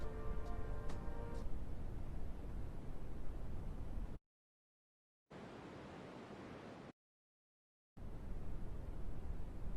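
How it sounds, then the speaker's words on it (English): Steady pink noise from an ambient sound app hisses evenly, cutting out twice to silence before resuming; a few faint tones sit under the start. "Oh, pink noise is kind of nice."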